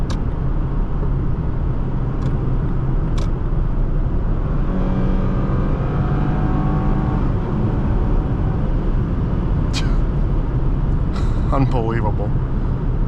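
A 2023 Toyota Tacoma TRD Off Road pickup drones loudly from inside the cab under heavy road and wind noise, its engine note rising briefly as it accelerates uphill to pass, with a few faint clicks.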